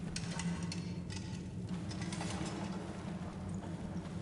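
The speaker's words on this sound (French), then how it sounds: "C'est pour ça que j'ouvre la cage là." A cage being opened in the video game Crimson Desert, a steady run of ratcheting metal clicks and gear-like ticking, fairly quiet and continuous with no talk.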